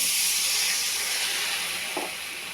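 Water poured into a hot pan of spices for a green banana and katla fish curry, a loud broad steam hiss that fades slightly toward the end.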